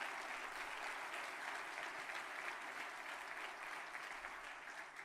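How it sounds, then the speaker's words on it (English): Steady, even applause from an audience at a forward-looking institutional address, a continuous wash of clapping that holds at constant loudness without breaks. "Round of applause for our research enterprise."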